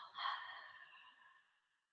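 One slow, deep exhale during an acupressure session, a soft breathy sigh heard close up that fades out over about a second and a half in an otherwise quiet room.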